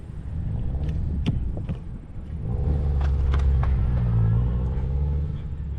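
A 2008-ish Honda Civic runs an autocross course, its engine a steady low rumble with faint clicks and rattles, swelling and easing as it passes nearby over roughly six seconds.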